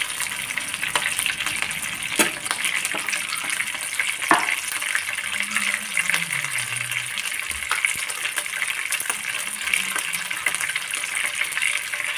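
Prawn potato snacks frying in hot oil, a steady close hiss and crackle of bubbling oil continuing throughout, with occasional sharp clinks and soft scraping, and faint voices in the background.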